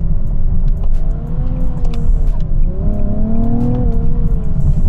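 A 2020 Nissan 370Z NISMO engine revs loudly through a downshift, with rising and falling harmonic tones over a steady rumble of road and engine noise, heard close from inside the car.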